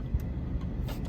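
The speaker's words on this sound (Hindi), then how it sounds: "जो गाड़ी इस वक्त मैं ड्राइव कर रहा हूँ" A 2022 Suzuki Alto 660cc with an AGS automated gearbox known for jerky shifts is driven, a low steady engine and road rumble heard from inside the cabin, brief and even.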